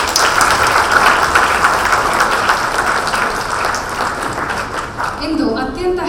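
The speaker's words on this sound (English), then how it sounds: "let us hear a huge round of applause for everyone still here" Audience applause at a graduation ceremony, a dense, sustained wash of clapping from a large crowd that holds steady throughout, with voices mixed into it.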